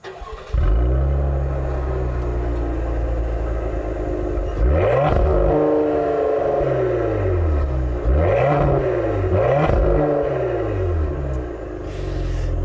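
A 2020 Cadillac CT5-V's V6 with an aggressive exhaust and a soft rev limiter cranks and fires up, settles into a rumbling idle, then snaps through three sharp rev blips, loud and close, with no talking.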